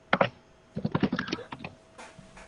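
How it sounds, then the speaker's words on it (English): Quick bursts of typing on a computer keyboard, close and clear, with short pauses between runs of keystrokes and no voices. "She's typing."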